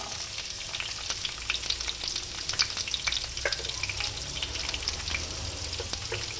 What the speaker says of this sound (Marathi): लसूण घालून घेणार आहोत त्यात मिरच्याही घालून घेणार आहोत आपण